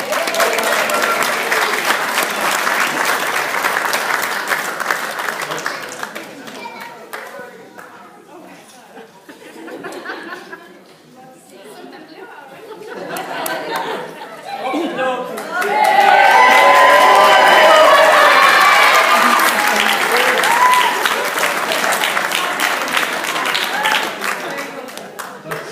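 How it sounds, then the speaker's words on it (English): Wedding guests clapping and cheering in a loud, sustained round of applause that dips briefly then swells again, with chatter and voices mixed throughout. "Round of applause for Ashley"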